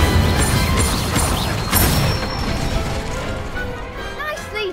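Spell-casting effects from the Hogwarts Legacy game, Accio and Incendio cast in quick succession: dense magical whooshes, crashes and mechanical clatter, loud at first and then thinning into fainter shimmering tones.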